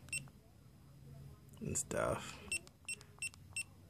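Several short, high electronic beeps from a GoPro Hero3+ Silver action camera sound in a quick irregular series, with a soft rustle and faint voice underneath.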